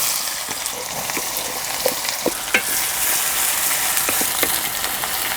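Finely chopped onion sizzles loudly in three spoons of hot oil in a kadai with mustard seeds, cumin and curry leaves, a steady frying hiss broken by occasional scrapes and clinks of a stirring spoon.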